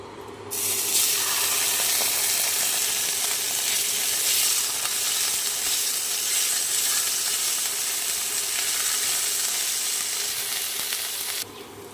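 Ginger paste hitting hot oil already holding fried whole cumin seeds and dried red chillies for an aloo potol curry, giving a loud, continuous sizzle that holds steady for about eleven seconds before cutting off.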